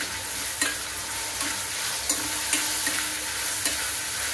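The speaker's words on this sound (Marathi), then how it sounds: "हे जरा चांगलं शिजवून घ्यायचं, जरा 1 मिनिट।" Dry coconut, ginger, garlic and chilli masala paste stir-fried in a pan, a steady soft sizzle with scraping spatula strokes at irregular intervals, close and moderately loud, no talking.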